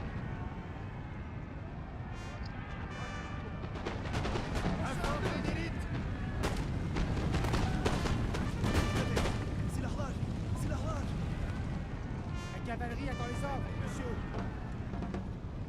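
Musket volleys and artillery fire from a Napoleonic-era battle in the Napoleon Total War video game, with dense, overlapping gunshots crackling continuously and booming louder through the middle, a steady battle din throughout.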